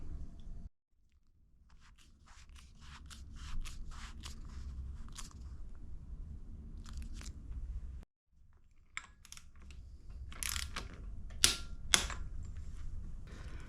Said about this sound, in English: So we'll go ahead and set the torque wrench to 44 Newton meters.